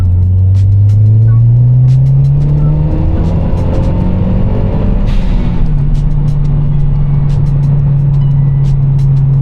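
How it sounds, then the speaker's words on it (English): A MazdaSpeed 3 engine fitted with a big top-mount intercooler makes a wide open throttle third gear pull, a loud steady engine drone rising in pitch as the car accelerates and holding strong throughout. "we just got to do a solid wide open throttle 3rd gear pull"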